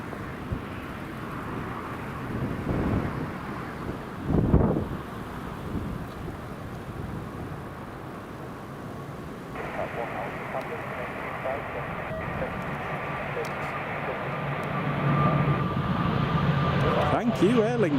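An Aer Lingus airliner takes off at Newcastle Airport on a windy day, its engine roar building to a sustained, rising drone under wind buffeting on the microphone, with people talking nearby.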